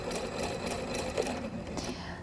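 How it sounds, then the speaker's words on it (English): Sewing machine stitching quilt blocks together for a miniature pineapple log cabin quilt, a quiet, rapid mechanical whir running continuously through the short stretch. "now we'll sew these 2 together"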